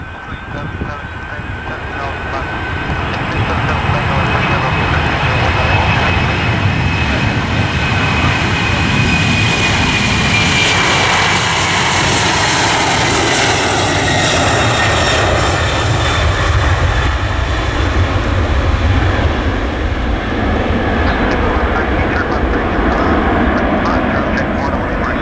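United Airlines Boeing 767-400 jet taking off from Orlando, a loud sustained engine roar that builds and holds steady throughout, with a rising turbine whine and faint radio chatter underneath.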